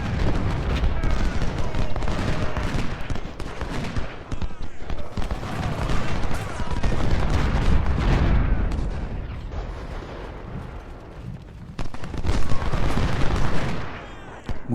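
Continuous musket volleys and booming gunfire from Cook and Brother musketoons in the Ultimate General: Civil War battle game roll on without letup, dense and loud, with cannon-like thuds mixed into the din.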